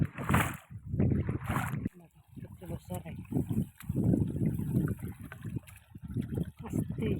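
Footsteps slosh and splash through water in a flooded onion field, as a person talks throughout over the wading.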